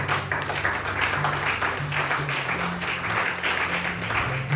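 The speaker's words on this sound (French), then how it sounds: "Est-ce qu'on peut acclamer pour Jésus?" A church congregation applauds and cheers for Jesus at a French-language service, sustained dense clapping with voices mixed in and a low musical drone underneath.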